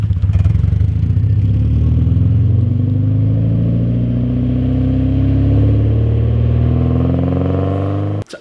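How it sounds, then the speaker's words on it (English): A Nissan S13 fitted with a KSport Pro Kontrol setup pulls away hard, the engine loud and close with rising harmonics through the gears, then cutting off abruptly at the end. "Ian drove off with one of our buddies to go for a nice little joyride"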